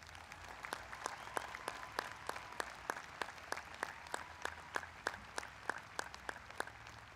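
A graduation crowd in a large venue applauds high school staff, with steady, fairly faint clapping and a few individual sharp claps standing out in a regular pattern.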